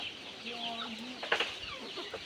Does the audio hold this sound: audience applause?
no